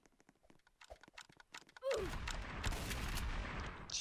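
Gunfire rings out in the Roblox game Prison Life: after some quiet clicking, a dense burst of shots starts and carries on loud and continuous to the end.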